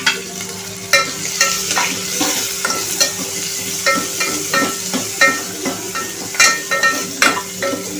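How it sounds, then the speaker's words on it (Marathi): Finely chopped onion hits hot oil with garlic and curry leaves in a pan, sizzling steadily while a spoon stirs and scrapes in irregular clinks and swishes, close and fairly loud, with no talking. "लगेच बारीक चिरलेला कांदा टाकणार आहोत, म्हणजे लसूण आणि कढीपत्ता करपणार नाही।"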